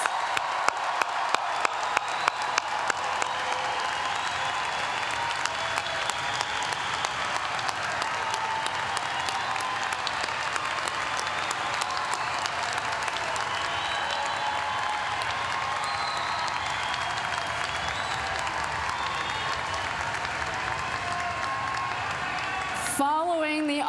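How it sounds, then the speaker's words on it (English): Audience at the JMU December 2019 undergraduate graduation ceremony applauding the graduates, sustained hall-filling clapping with some cheers, a few sharp claps standing out at the start, continuing steadily for over twenty seconds. "Let's give one more round of applause for our December"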